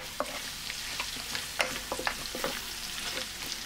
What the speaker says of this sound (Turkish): Ve salçayla birlikte kavurma işlemine devam ediyorum.